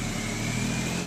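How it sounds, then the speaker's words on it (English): Stock exhaust of a running 2009 Smart Cabriolet, a steady, close low engine drone with a slight pulsing throb and no voices. "this is the sound of the stock exhaust"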